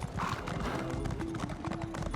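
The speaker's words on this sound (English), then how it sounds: "I bet horses absolutely love running up stone steps and also getting hung on the sides of things." A horse in the Elder Scrolls Online game clatters up stone steps with quick, close hoofbeat clip-clops over a steady game ambience, with a brief whinny-like tone mixed in.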